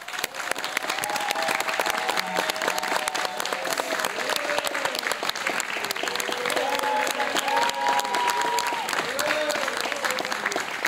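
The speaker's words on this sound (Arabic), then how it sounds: "باش نستقبلوا بكل حب وبرشا تصفيق" A TV studio audience applauds to welcome a singer onto a Tunisian New Year's variety show, steady dense clapping lasting throughout, with music and voices running underneath.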